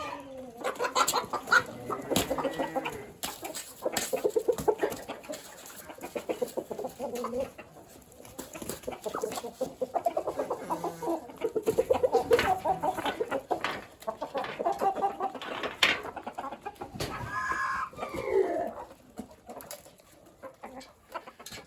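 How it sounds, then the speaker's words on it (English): Several large roosters and hens cluck and call on a spring farm, a steady stream of overlapping close clucks and squawks with other farm birds mixed in, no talking. "These roosters are huge."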